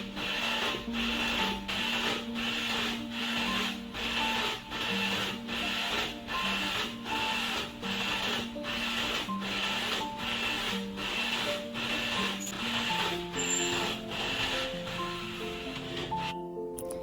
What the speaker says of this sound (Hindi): जिस तरह से ये देखेंगे प्रिंटर कितनी स्पीड के साथ डाटा या इंफॉर्मेशन को छापता जा रहा है पेजेस के ऊपर या पेपर के ऊपर।